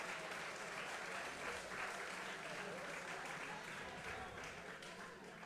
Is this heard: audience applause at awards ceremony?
yes